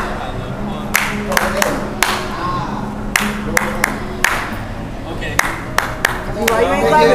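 A group claps hands in a shopping mall while people dance, with a few sharp, scattered claps ringing out over steady background chatter and talking.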